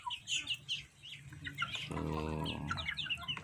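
Backyard chickens, including brooding hens, give a few soft clucks and chirps, followed by a louder drawn-out cackle near the middle, all fairly close and moderately quiet against faint farmyard background.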